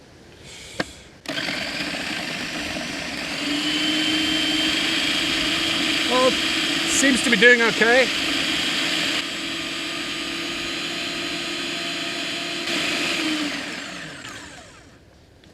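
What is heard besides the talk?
blender blending hot sauce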